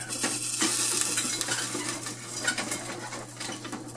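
Popcorn being stirred in a Great Northern Twister popcorn popper: a continuous scraping and rattling of kernels against the metal kettle over a steady sizzle, close and fairly loud, with no talk.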